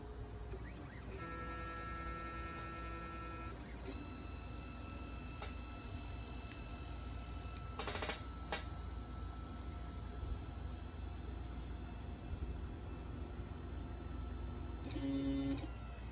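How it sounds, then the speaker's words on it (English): A FOXAlien Masuter CNC router homing its axes, with steady stepper-motor whine and tones shifting as each axis moves, a brief clunk near the middle and another at the end, all over a constant hum. "So now we have the machine homed."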